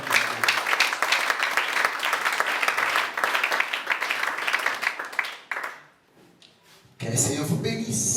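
Church congregation applauding during a worship service, a steady, lively clatter of many hands that stops abruptly, followed by a short hush and then a voice speaking.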